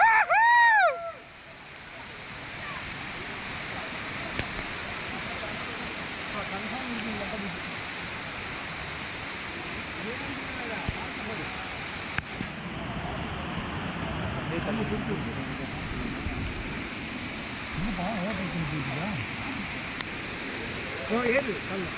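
Water rushes and roars in a constant broad hiss at Elaneeru Falls in Karnataka, close and steady throughout, with a brief whistle-like chirp at the start and faint voices beneath.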